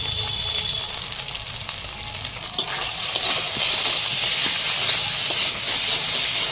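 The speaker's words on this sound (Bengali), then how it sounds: "একদম ঝিমিয়ে আছে মশলাটা ভালো করে কষিয়ে নেব।" Spice paste with turmeric and salt being sautéed in a pan for a thin fish curry of singhi fish, giving a steady close hiss and sizzle that grows a little fuller toward the end, with no speech.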